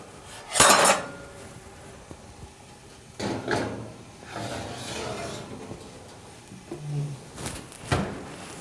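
A pan of roasting vegetables is put back into the oven: metallic clatter and scraping of the pan, an oven door sliding and closing, and scattered clanks at close range, with no talk.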